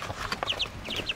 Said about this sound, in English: we are dropping off some chickens today